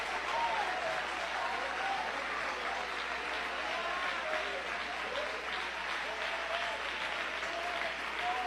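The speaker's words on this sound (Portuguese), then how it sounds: "eu quero ouvir palmas misturado com glória a Deus" A church congregation claps steadily and continuously, a dense, even wash of hand claps with voices shouting praise mixed in throughout.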